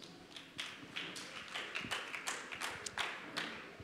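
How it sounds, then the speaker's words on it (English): Church congregation clapping during a live Sunday service, a steady run of hand claps and taps filling the space with no talking. "Let's clap for Jesus."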